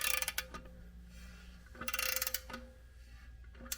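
Rapid ratcheting clicks from a torque wrench tightening lug nuts in a crisscross pattern on Re Amemiya AW7 wheels, several short bursts of close mechanical clicking with brief pauses between them and no talk.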